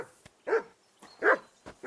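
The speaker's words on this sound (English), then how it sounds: "Call off that mutt of yours!" A dog in Kingdom Come Deliverance II barks three times in spaced bursts, each a sharp, mid-loud woof close by, with quiet pauses between and no talking.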